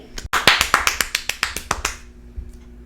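Rapid run of crisp finger snaps used as applause, about a dozen in a quick steady rhythm, close and loud, trailing off into quiet.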